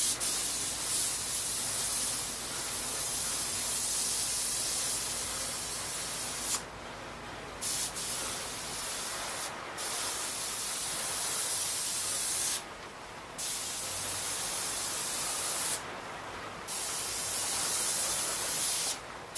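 An airbrush sprays with the air running all the time, a continuous soft hiss broken only by a few brief dips, close and steady, with no talking.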